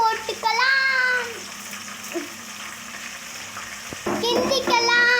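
Green chillies fry in hot oil with coriander and mint for egg biryani, a close, continuous sizzle heard beneath a voice and some background voices.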